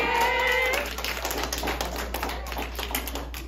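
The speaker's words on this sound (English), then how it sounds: "let's give a round of applause for our most valuable person" Audience applause at a middle school cross-country awards ceremony, a steady wash of many hands clapping close by for about three seconds, with a faint whistle-like tone near the start and no talk over it.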